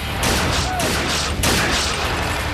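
Rapid automatic gunfire from the Jackal weapon in a shooter video game, loud and continuous bursts filling the short clip with dense, cracking shots and brief pauses.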